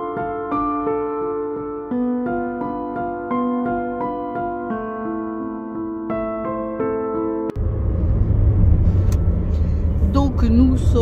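A car on a road trip in England, heading toward Winchester: music plays for several seconds, then gives way to the steady, close rumble and road noise of the moving car.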